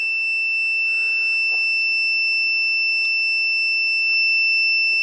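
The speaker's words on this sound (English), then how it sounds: "So there's my switch rigged up to the bleeping effect on the meter" A multimeter's continuity beeper sounds through a rigged-up switch while a Makita site torch is being repaired, holding one steady high electronic tone for the whole stretch.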